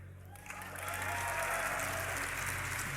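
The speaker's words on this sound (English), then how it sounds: "one big cheer from the crowd" A crowd cheers and applauds at the League of Legends DreamHack Winter 2012 esports tournament, the sound swelling after a quiet start into a sustained, fairly faint roar under a steady low hum.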